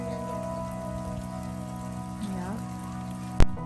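Steady patter of rain on a surface by a pond, continuous and moderately close, with a sharp knock near the end and a faint voice briefly in the background.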